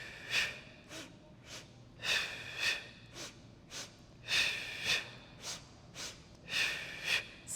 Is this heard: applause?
no